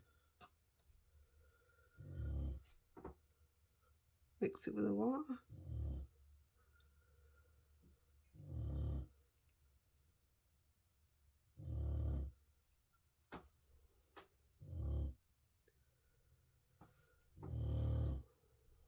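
A dog makes repeated low, breathy growling or huffing sounds in separate bursts every few seconds, fairly close, with a brief high whine and a short spoken line.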